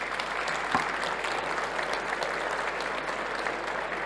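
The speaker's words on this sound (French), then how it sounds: "Merci à vous, on va pouvoir vous applaudir." Audience applause fills the hall after a talk on social engineering at the INCYBER cybersecurity conference, steady and dense from start to finish with no voices over it.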